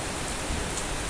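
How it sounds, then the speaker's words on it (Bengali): Heavy rain falls hard in a steady, dense roar with no break and no speech. "বৃষ্টি হচ্ছে এখন অনেক জোরে জোরে"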